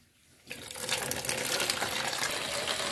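Water from a farm's water supply starts gushing after a brief quiet moment, then runs steadily as a moderately loud splashing flow, with no talking.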